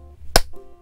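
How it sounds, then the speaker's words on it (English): One sharp, loud hand clap lands close by, aimed at setting off a small Mickey-O-Lantern light, alone in a quiet room with a faint hum after it. "can we like clap?"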